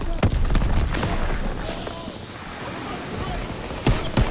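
Gunfire and explosive booms on the D-Day beach in Call of Duty WW2, with a grenade among them: sharp repeated blasts with a heavy cluster at the start and more near the end, over a busy battlefield background with voices.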